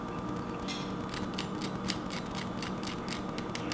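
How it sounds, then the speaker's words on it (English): Steady, dense crunching with sharp crackly bursts repeating throughout, close and fairly quiet, like crisp potato being chewed or broken. "You guys hear this? It's that crispiness of the potato."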